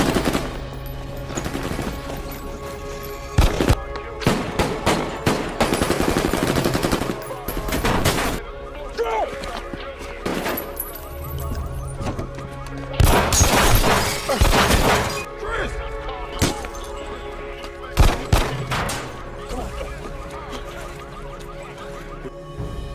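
Gunfire in a shootout from the film Triple 9, with bursts of loud shots and crashing impacts scattered through a tense scene, mixed with shouting voices and other effects.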